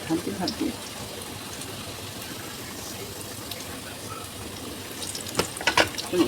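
Semolina and raw potato snacks sizzle in hot oil, a soft continuous frying hiss with louder crackles near the end, while a voice speaks briefly at the start.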